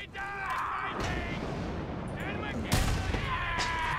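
Gunfire rings out during combat with an enemy in the Mad Max video game, with several sharp shots and bursts, a loud blast near the middle, and a voice speaking over parts of the action.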